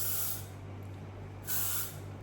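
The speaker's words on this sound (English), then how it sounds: "And now I'm going to use hairspray" Hairspray hisses from an aerosol can onto hair being styled into a sleek look, two short close sprays separated by a pause over a low steady hum.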